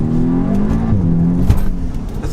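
A stage 1 tuned Audi S3 accelerates hard, its engine note climbing steadily through the rev range with a gear shift midway, loud and heard from inside the cabin with road and wind roar beneath.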